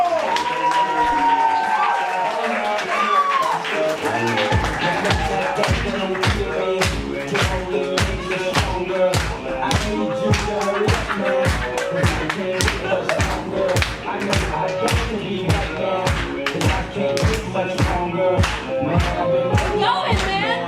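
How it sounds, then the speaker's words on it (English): A crowd at an improv comedy show claps in a fast, steady rhythm throughout, with faint voices and cheering mixed into the beat. "Get your hands clapping. Make some noise for the"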